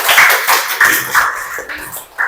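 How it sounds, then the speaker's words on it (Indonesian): A class of young students gives a short round of rhythmic clapping for a classmate during a Ramadan fasting-intention lesson, several loud claps in uneven bursts, close by indoors. "tepuk tangan buat Kania."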